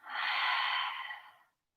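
A single long, breathy exhale during a yoga flow, close and soft, fading out into silence after about a second and a half.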